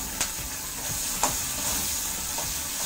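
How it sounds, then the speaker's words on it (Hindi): Garlic and green chillies roasting with salt in a hot pan for Maharashtrian thecha give a steady, close sizzle with a few sharp crackles and stirring scrapes, no voices. "ताकि लहसुन का स्मेल थोड़ा कम आए और लहसुन थोड़ा भून ले"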